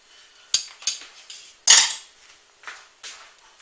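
A spoon clatters in a kitchen while a broccoli rice casserole is being made: a loud metallic crash with several sharper clinks scattered before and after it, close by with no talking.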